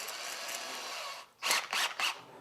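Power drill fitted with a 3mm twist bit, working on a Volkswagen Beetle part, with a steady motor whine followed by three short, louder bursts of drilling close by.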